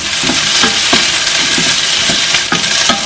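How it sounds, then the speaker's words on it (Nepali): Okra and potatoes stir-frying in oil in a pan, a steady close sizzle broken by several spatula scrapes and stirring clatters spaced through the clip, with no voices. "मिडियम हिटमा यो चिप्ले भेन्टालाई 2-3 मिनेट यसरी भुट्ने आलुसँगै।"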